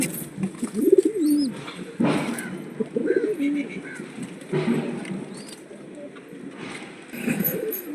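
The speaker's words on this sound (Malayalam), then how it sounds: "പിന്നെ നമ്മൾ വെട്ടി വെച്ച മെയിൽ പ്രാവുകൾ" Pigeons coo close by in repeated soft, throaty rolling calls, several birds overlapping, with occasional faint higher chirps in the background.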